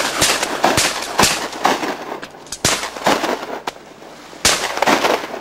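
Shotgun blasts crack out in a string of sharp, loud reports, roughly eight of them spaced unevenly across a few seconds, each with a short echoing tail.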